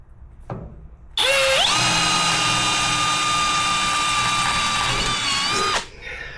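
A power drill bores pilot holes in a hot rod, spinning up with a rising whine into one loud, steady, close-up run of about five seconds before winding down.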